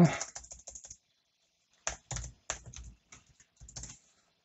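Computer keyboard keys pressed during CNC software setup for CANopen servo drives, an opening flurry of quick taps, then several short clusters of keystrokes separated by pauses, close and fairly crisp.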